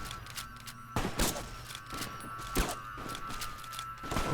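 Sharp gunshots crack at uneven intervals during combat against Legion soldiers in Fallout New Vegas, a few distinct reports standing out over a steady low background hum.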